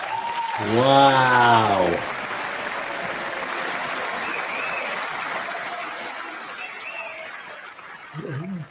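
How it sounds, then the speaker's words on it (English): Steady applause fills the chamber during a speech to Congress, a broad wash of clapping from a large crowd that follows a brief spoken exclamation and carries on at even strength until talk resumes at the end. "They don't mean it when they're clapping."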